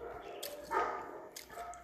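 A dog gives one short bark at moderate distance, with faint yips and rustling around it against a quiet indoor background.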